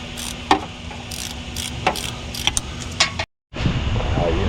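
A ratchet and wrench work on a bolt of a 2018 Nissan Altima 2.5 during an A/C compressor job: close metallic clicks and clinks in irregular bursts, briefly cut to silence, with a speaking voice nearby.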